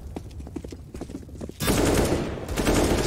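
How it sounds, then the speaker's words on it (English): Gunfire in a professional Counter-Strike: Global Offensive match at ESL Katowice 2019: after a quiet stretch of small clicks and ticks, a sudden loud burst of rapid shots and dense crackling noise continues through the rest of the moment. "Joseph starting off brilliant with a shot into PHR."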